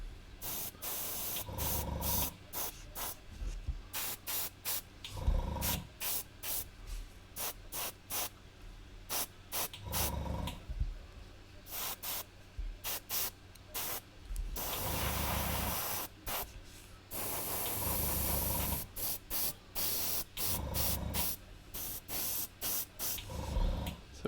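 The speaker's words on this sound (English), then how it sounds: "I'm having a lot of spattering from the brush, airbrush" Airbrush spraying orange paint and spattering droplets: repeated hissing bursts of spray, some short and some sustained for a few seconds, separated by quiet gaps, close and fairly loud, with no talking.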